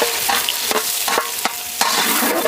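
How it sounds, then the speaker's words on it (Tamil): Chopped onions fry in cow ghee and coconut oil with cinnamon, cloves and cardamom for goat biryani, a steady close sizzle broken by several sharp scraping stirs. "நறுக்கின வெங்காயம்,"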